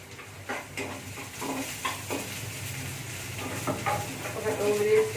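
Onions and green chillies fry in a pan, a steady close sizzle broken by scraping stir strokes and light clinks of utensil on metal, with a little background voice mixed in.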